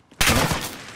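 Loud video-game gunfire erupts after a brief quiet start into a dense, sustained burst of shots that holds for nearly a second, with no talk over it.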